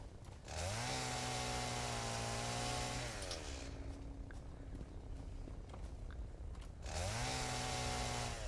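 Chainsaw in the game Satisfactory cutting trees: two revving bursts of a droning saw with rising and falling pitch, separated by a quieter idling stretch, fairly close and clear.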